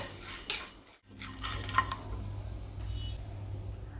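A utensil scrapes and stirs against a metal kadai, with light clinks and faint dry rustling as lentils roast over a slow flame at close range.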